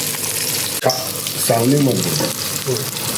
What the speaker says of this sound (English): You can see it nicely sizzling on the pan on one side.